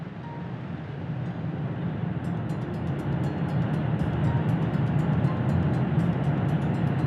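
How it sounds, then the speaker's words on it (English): A Falcon 9 rocket launching 22 Starlink satellites lifts off with a deep, steady roar that builds over the first seconds and then holds loud and continuous, with crackling on top and no talk. "watch Falcon 9 launch 22 Starlink satellites to orbit"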